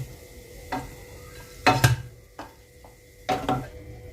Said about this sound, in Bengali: কড়াই থেকে তুলে নিচ্ছি